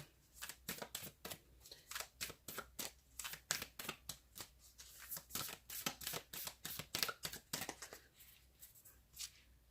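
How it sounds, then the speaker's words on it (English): Tarot cards are shuffled in quick, dry riffling bursts, a steady rhythm of papery flutters repeating close by with no talking. "Trying to get it to where it shuffles every last one instead of like 4 and 5 cards sticking."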